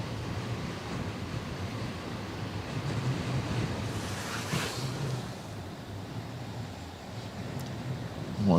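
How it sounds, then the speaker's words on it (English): Steady broadband wind noise buffets an outdoor harbour setting during live shipspotting of the 400 m MSC Loreto container ship, a continuous rushing roar with a brief gust swell midway and no talk. "dealing with the wind"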